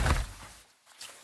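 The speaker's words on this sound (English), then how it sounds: "the sound of me taking a rubber raincoat and just like whooshing it past the microphone" A rubber raincoat swept past the microphone in a quick close whoosh with a rushing onset that fades, then a fainter second swish, heard alone.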